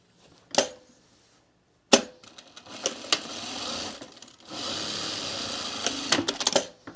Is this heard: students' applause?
no